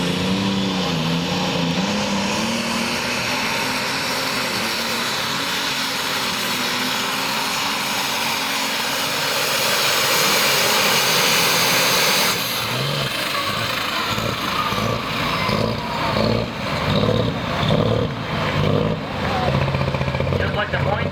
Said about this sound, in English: Once again, alcohol burning tractor.